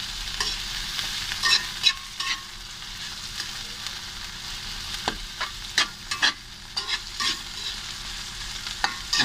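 Eggplant frying in hot oil and being stirred, a steady sizzle broken by repeated scraping and clacking of the stirring utensil, close and fairly loud with no talking.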